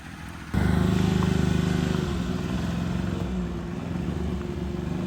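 A small engine on a minicab build starts up abruptly and settles into a steady, close, throbbing idle with a fast regular pulse that carries on without talk.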